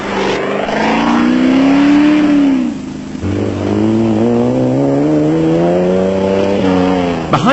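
Nissan Sani off-road race truck driving flat out in the 1995 Sugarbelt 400 production-vehicle race in South Africa, a loud continuous engine drone rising in pitch under acceleration, dipping briefly as it shifts, then climbing again, close and steady.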